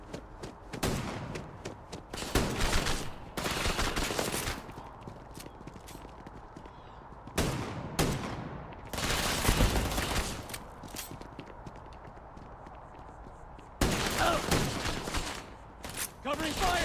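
Bursts of gunfire crackle in Starfield, loud clustered volleys of shots separated by quieter gaps, with someone talking in between.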